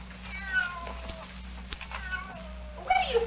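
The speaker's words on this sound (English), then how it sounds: "Where do you come from, you stupid cat?" A cat meows in a radio drama, with several drawn-out, wavering meows and caterwauls over a low steady hum, close and fairly clear.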